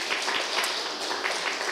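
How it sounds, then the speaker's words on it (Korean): Brief burst of congregation applause in a church, dense and even clapping at fairly close range with no speech on top. "한번 격려의 박수해 주시죠"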